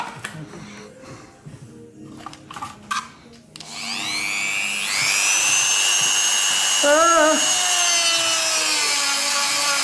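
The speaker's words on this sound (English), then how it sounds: "He's going to Dremel at the side here, just a little notch where we can run the cable in." A Dremel rotary tool cuts a small cable notch in the side panel of a BMW motorcycle: after some handling noises, a loud whining spin-up settles into a steady high grinding drone, with voices heard early on.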